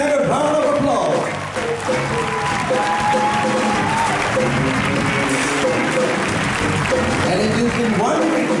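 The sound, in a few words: audience applause at a concert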